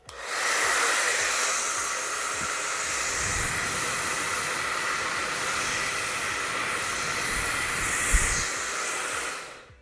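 An MQ Pro Digital 2400W hair dryer running at its highest speed gives a steady, loud broadband whoosh of rushing air and motor hiss that holds constant throughout without any talking.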